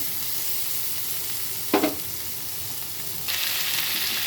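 Okra pieces frying in a pan with turmeric and salt: a steady sizzle nearby, one brief clatter of stirring midway, then the hiss grows brighter and louder for the final second.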